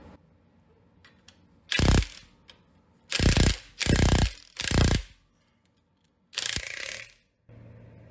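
An impact wrench with a 3/4 inch socket hammers at a bolt on a 5.7 Hemi engine in five short, loud bursts separated by silent gaps, close by, with no talk.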